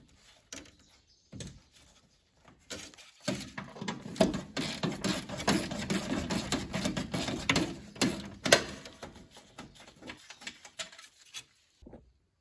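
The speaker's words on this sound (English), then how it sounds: "I've just got an extension on a 12mm socket and a ratchet." A hand ratchet turns a 12mm socket on an extension, working on a radiator bolt of a 90 Series Toyota Land Cruiser Prado with the 1KZ engine, giving a busy run of close, rapid clicking and metal rattling that swells in the middle and tapers off.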